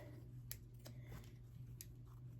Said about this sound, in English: Cut my threads.